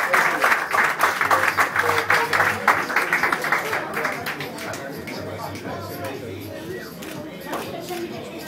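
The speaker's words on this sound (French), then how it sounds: "On peut les applaudir bien fort, s'il vous plaît." Loud applause from an audience at the start, fading into crowd murmur and scattered clapping with voices in the background.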